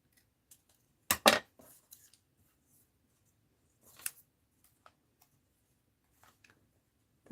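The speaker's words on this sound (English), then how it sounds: "Let's cut this out and see how it looks." Scissors snipping a paper piece up close: one loud double cut near the start, a second cut a few seconds later, then scattered faint ticks and rustles in a quiet room.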